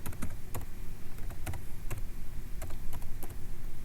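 Keys tapped on a computer keyboard while entering a command on a server, in a quick irregular run of close, crisp clicks with short pauses.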